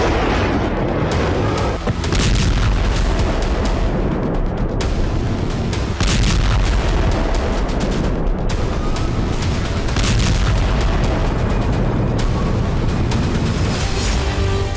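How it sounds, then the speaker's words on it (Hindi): Air strikes by Ukraine on Russian territory, including an airbase in western Crimea, set off repeated heavy booms and blasts, several loud bursts spaced a few seconds apart over a constant rumbling roar, with no talk. "बीते 48 घंटों में यूक्रेन ने रूसी धरती पर 2 बड़े हमलों को अंजाम दिया, वो भी जबरदस्त आसमानी प्रहार के जरिए"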